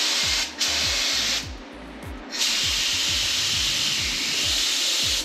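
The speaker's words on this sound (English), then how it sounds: "It's not spraying like it was when we did it the other side." A steady, loud hiss of a paint spray gun spraying primer on a boat runs almost continuously, pausing briefly twice, over a rapid mechanical clatter.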